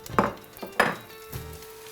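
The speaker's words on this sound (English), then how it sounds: "We're gonna throw in our pork breakfast sausage." Pork breakfast sausage dropped into a hot pan gives a few separate clattering, sizzling bursts close up, with quieter scraping between them.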